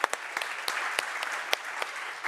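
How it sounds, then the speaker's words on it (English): A conference audience at a digital agriculture event applauds warmly, a steady mass of clapping with sharp individual claps popping out, fairly close and alone without talk. "Will you help us to give a warm round of applause to you all?"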